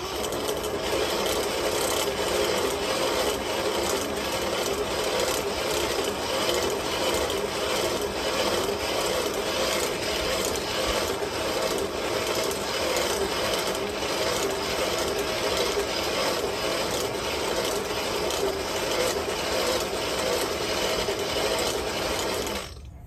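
A small hand-crank forge blower spins steadily over a coal fire during knife heat treating, giving a continuous whirring, ratcheting mechanical rush at close range that runs unbroken for the whole stretch with no talk.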